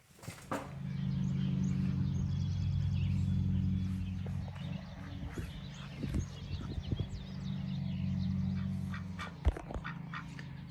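Ducks quacking close by, a steady chorus of overlapping nasal calls that swells, dips briefly, then resumes with occasional louder quacks.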